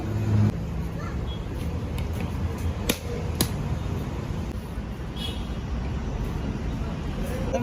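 A tempo vehicle drives along a farm road with a low steady engine rumble and road noise, a few sharp clicks and knocks scattered through.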